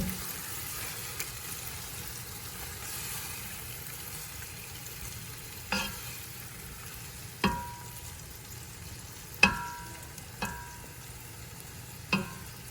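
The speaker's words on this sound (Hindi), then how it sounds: "बस हिला लेंगे।" Chana dal frying with green masala in a pan gives a steady low sizzle, broken by several sharp scrapes and knocks of a spoon stirring at irregular intervals, with no talking.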